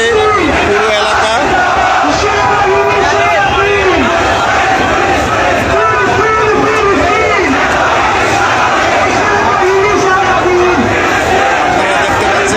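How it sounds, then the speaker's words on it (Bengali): A huge street rally crowd in Dhaka, marching for Gaza, chants Nara-e-Takbir and Allahu Akbar in loud, repeated rhythmic waves of massed voices, dense and continuous. "নারায়ে তাকবীর, আল্লাহু আকবার ধ্বনিতে প্রকম্পিত হচ্ছে পুরো এলাকা।"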